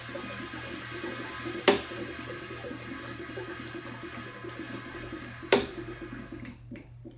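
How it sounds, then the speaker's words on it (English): Air and beer bubble and hiss out of the opened bleed valve on an empty keg detector in a long-draw beer system. A steady gurgling rush is broken by two sharp clicks. "You open up the bleed off on the empty keg detector and you'll hear air rushing out of it, bubbling happening"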